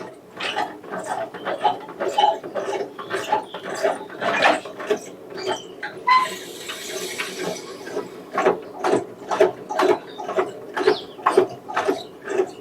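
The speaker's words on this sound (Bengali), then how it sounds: "নিচ দিয়ে পা দিয়ে মেশিন ঘোরাচ্ছে দেখুন।" A foot-driven potter's wheel turns in a Bangladeshi pottery workshop in Benopur, Kaliakoir, Gazipur, where clay money banks are shaped by hand. It makes a rapid, rhythmic wooden clacking that repeats steadily and close by, with some talk underneath.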